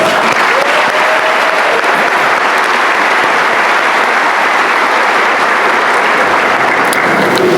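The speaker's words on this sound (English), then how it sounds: "Please give a round of applause to these generous donors." Large audience applauding at a high school class of 2024 graduation ceremony, loud, sustained clapping from many hands that fills the hall without pause.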